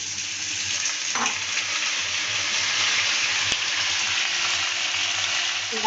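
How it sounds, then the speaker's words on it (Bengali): Potatoes fry in oil over a low gas flame, giving a steady, even sizzle with a faint clink partway through and no voices. "চলো পুরো আলুই ভেজে দিলাম"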